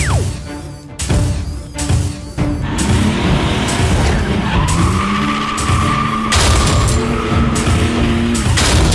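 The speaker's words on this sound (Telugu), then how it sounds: "ఈ కారుని తిప్పి తిప్పి చేస్తాను." A cartoon car spins and skids with loud tire squeals and sliding engine tones, preceded by a few sharp bangs, the screech continuing steadily to the end.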